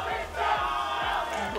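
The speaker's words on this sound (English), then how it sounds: "Oh, we got two chants." A crowd chants at a Tekken 8 fighting game tournament, a steady rhythmic roar of many voices with repeated pulsing beats, loud and continuous throughout.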